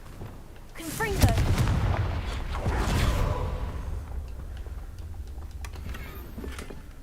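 Confringo explosive spell in Hogwarts Legacy, a fiery blast with crackling impacts that swells and rumbles before fading, with some speech-like sound mixed in.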